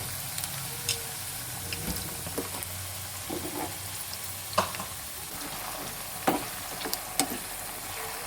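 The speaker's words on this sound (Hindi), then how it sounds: "अब हम इसे फ्राई करेंगे सिर्फ 3 मिनट के" Potato garlic bites fry in hot oil in a pan, giving a steady crackling sizzle with scattered sharper pops and stirring clinks.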